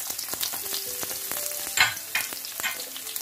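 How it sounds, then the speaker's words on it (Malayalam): Garlic hits hot oil with mustard seeds for an avocado pickle, giving a close, bright sizzle broken by brief stirring clicks and a sharper spit partway through. "ഇനി ഇതിൻ്റെ കൂടെ എടുത്തു വെച്ചിരിക്കുന്ന വെളുത്തുള്ളി ഇട്ട് കൊടുക്കാം."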